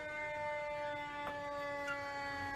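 A fire truck siren wails at a building fire in Old Montreal, a steady sustained tone heard at moderate distance over low street noise.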